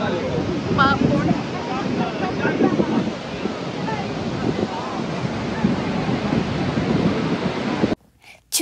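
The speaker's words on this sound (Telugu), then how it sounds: "మేము ఫాల్స్ కి చాలా దగ్గరికి వెళ్ళాం. సౌండ్ అయితే ఘోరంగా వస్తుంది అసలు." Roaring water at very close range behind Niagara Falls, a loud, constant rumbling wash with wind buffeting the microphone and faint voices mixed in, cutting off abruptly near the end.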